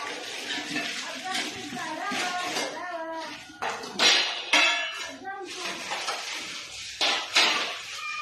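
Steel pots, bowls and glasses from a government cookware kit are unpacked and handled, clinking and clattering in bursts while several people talk over them.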